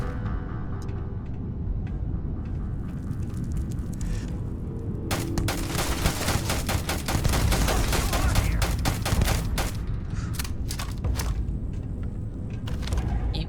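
Rapid bursts of player gunfire in the sci-fi game Starfield, sharp repeated shots crackling over a steady rumbling background, growing denser in the second half with clustered volleys.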